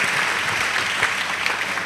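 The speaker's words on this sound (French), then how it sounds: "Oui, acclamez." Audience applause at a send-off ceremony for missionaries in Côte d'Ivoire: dense, steady clapping from a crowd that fills the whole short moment.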